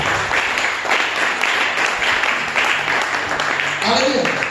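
A church congregation claps during a worship service: a steady, dense wash of many hands applauding that fills the whole stretch, with voices mixed into the crowd noise.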